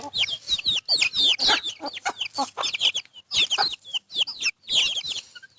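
Backyard chickens in a home coop cluck and squawk in quick, overlapping bursts, close and loud, with short pauses between calls and no talking.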